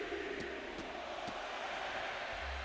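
A wrestling arena crowd in WWE 2K25 roars with a steady, dense cheer as Cody battles Ilja Dragunov before an Arkansas audience at the Royal Rumble, with faint impacts punching through the wash.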